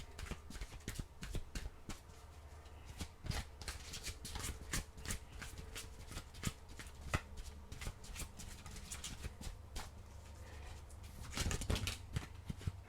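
Oracle cards are shuffled in rapid, irregular bursts of crisp riffling and flicking, close and quiet, with no talk over the handling.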